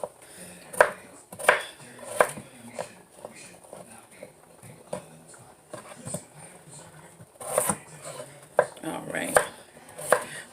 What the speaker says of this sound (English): You see just that fast we cut up us a bowl of potatoes.